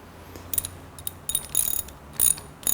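A ratchet tightening a spark plug on a Honda CB750 motorcycle, several short bursts of clicking pawl strokes, close and fairly quiet, with brief pauses between turns.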